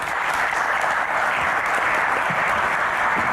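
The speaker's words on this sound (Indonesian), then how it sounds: "Tepuk tangan lebih meriah lagi" Dense, steady applause from an audience welcoming guests at an evening Q&A event, loud and continuous without a break for the whole stretch.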